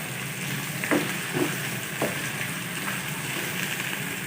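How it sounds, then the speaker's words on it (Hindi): Finely chopped onion frying in half a cup of oil in a pan on a stove, a steady low sizzle with a few soft clinks of stirring, no talking. "एक प्याज ऐड करेंगे बारीक चॉप किया हुआ, हल्का सा फ्राई कर लेंगे"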